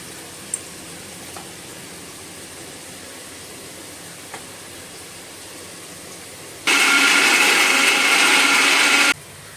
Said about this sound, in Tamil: இது நம்ம வந்து இப்போ அரைக்கணும்னு சொல்லியிருந்தோம் இல்லையா,